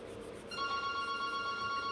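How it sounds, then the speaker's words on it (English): A telephone rings steadily with sustained tonal trilling that starts about halfway through and continues to the end, over quiet room background in a nail salon. "answer the phone."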